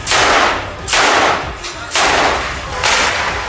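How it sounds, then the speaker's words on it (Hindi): Gunfire from Israeli soldiers in combat against Hamas, with four loud, widely spaced shots or bursts, each with a long echoing decay. "फायरिंग करते करते ये सैनिक अपने लक्ष्य के बहुत नजदीक पहुंच गए"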